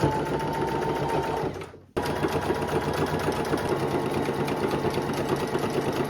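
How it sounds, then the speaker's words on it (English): A sewing machine stitches along the seams of thrifted clothing, running in a steady, loud, rapid whir. There is one brief pause before it continues unbroken, with no voices. "So now I can sew along each seam here"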